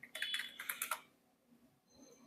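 Quick run of keyboard typing during an online design session, a burst of close, crisp key clicks in the first second, then quiet with faint background.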